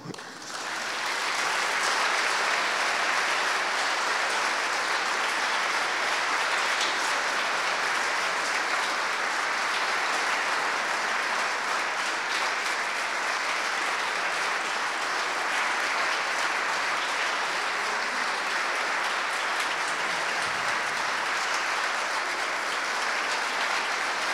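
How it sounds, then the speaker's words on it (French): A crowd applauds at a museum exhibition opening, a long, even roar of clapping that swells in quickly and holds steady, loud and unbroken for over twenty seconds. "je t'invite à nous rejoindre devant et à recevoir beaucoup d'applaudissements"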